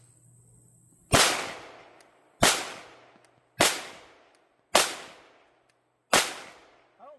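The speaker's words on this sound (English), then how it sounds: "I'm going to get a few more rounds on this thing" Five sharp gunshots from a Canik TTI pistol at an outdoor range, fired one at a time about every second and a quarter, each loud crack trailing off in a brief echo.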